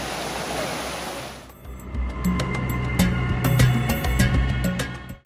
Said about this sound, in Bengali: আমরা একটা ছোট ঝর্ণার দেখা পেয়েছি এখানে